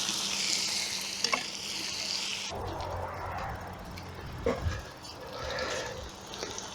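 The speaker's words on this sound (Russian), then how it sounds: "Вот у нас все сейчас поджаривается. Периодически перемешиваем где-то 5-7 минут примерно." Beef and carrots sizzle and fry in a kazan, a steady close hiss with a spoon scraping and stirring through the pot in a few louder clanks; no voices.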